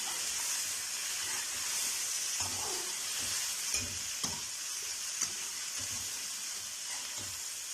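Onion, garlic and chopped tomato fry in a pan with a steady bright hiss and crackle, broken by occasional soft scrapes of stirring, with no talking.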